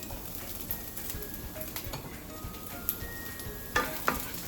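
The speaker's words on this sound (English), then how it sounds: "So the oil is hot right here. I'm going to shave some onions in this pot." Onions shaved into hot oil in a pot sizzle in a low, steady crackle, with a few sharper clinks of a pan or utensil near the end.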